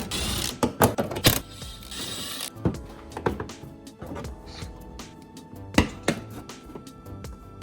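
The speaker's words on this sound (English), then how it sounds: "Most of these bolts here are 10 millimeters, so I'm going to unscrew 3 of them now" 10 mm bolts being unscrewed from a Toyota Tacoma wheel well liner: close, irregular ratcheting clicks and sharp metallic knocks, with busier bursts early and scattered clicks after.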